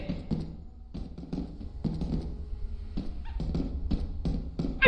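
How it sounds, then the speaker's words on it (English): Dog creature from the video game Lethal Company, giving repeated short yips and whimpers in an irregular rhythm over a steady low rumble of game ambience, moderately loud and close. "I found a dog!"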